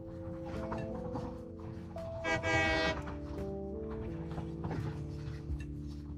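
A train in the Satisfactory factory game rumbling along with a sustained rolling drone, broken by a loud horn blast in the middle that sounds muffled, as if heard from indoors.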